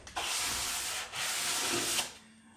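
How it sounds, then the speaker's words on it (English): Sanding block wrapped in 220-grit sandpaper rubbed across wooden end grain, a close, steady scratchy rasp in two long strokes with a brief pause between them, heard alone. "I'm going to take some 220 on this little block of wood, and I'm just going to hit this end grain"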